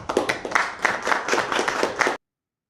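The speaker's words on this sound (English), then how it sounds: "so a bit of clap there, a bit of a show for that signing after Trump" A small group clapping after a deal signing, a brief burst of distinct handclaps in an irregular rhythm, close and moderately loud, ending abruptly into silence.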